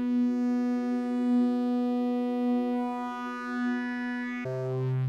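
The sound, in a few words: Make Noise 0-Coast synthesizer wave folding adding harmonics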